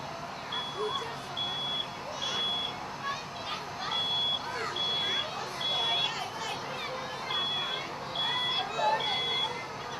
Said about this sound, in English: right now you hear the smoke detector going off